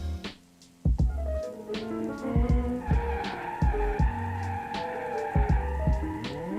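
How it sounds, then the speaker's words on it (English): A car drifting in the video game BeamNG.drive, with a revving engine that rises and drops between gear shifts and long, loud tire squeals under sustained slides, with no talk. "the car accelerated much better and it drifts a lot better because of the rear suspension"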